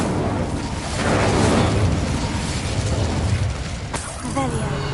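Fire spell Incendio cast in Hogwarts Legacy on PS5, a loud whooshing, roaring burst that swells and fades over several seconds, followed by a brief bright magical chime near the end.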